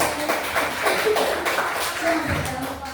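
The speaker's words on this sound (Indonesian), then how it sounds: "Tepuk tangan untuk kita semuanya" A group claps together during a positive-discipline activity in an Indonesian school session, a dense patter of hands lasting a few seconds with a voice talking over it.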